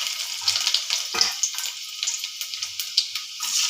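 Cut garlic pieces frying in hot oil with cumin seeds, bright crackling sizzle with quick spitting pops and a brief burst as pieces drop in, close up and alone.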